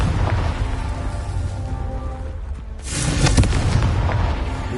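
A Confringo fire spell explodes in Hogwarts Legacy with a loud, crackling burst near the three-second mark, set over a steady rumbling game background and standing alone without talk.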